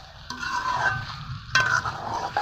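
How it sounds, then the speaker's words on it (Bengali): Mutton and potatoes are stir-fried together in a pot for mutton biryani: a soft, continuous sizzle broken by two louder bursts of scraping and stirring. "আলু দেওয়ার পরে ভালো করে মাংস সহ আলু কষিয়ে নিয়েছি"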